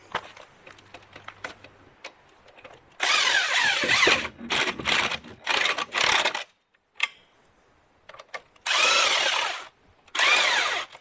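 On a 1994-2002 Dodge Ram front wheel, a power tool tightens lug nuts in a series of loud, close whirring bursts of roughly a second each, separated by short pauses, with faint clinks between.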